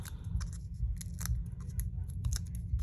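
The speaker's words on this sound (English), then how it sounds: "All right, peel off these backs." Backing paper peeled off stickers gives a series of close, crisp rips and crackles over a low background rumble, with no talking.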